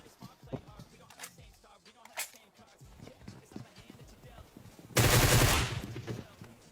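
Gunfire in PUBG Mobile: scattered sharp shots and clicks, then a loud, dense burst of rapid automatic fire lasting about a second before tailing off.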